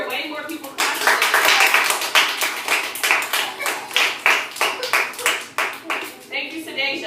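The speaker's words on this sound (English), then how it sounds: "Oh, I should hear way more people clapping." Students in a class clap in a quick, rhythmic patter of fairly close hand claps, evenly spaced and sustained for several seconds, with a voice briefly heard near the start and end.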